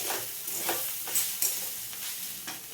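Scrambled egg with fried potato and carrot sizzles in a pan, with several scraping stirring strokes cutting through the steady crackle over a few seconds.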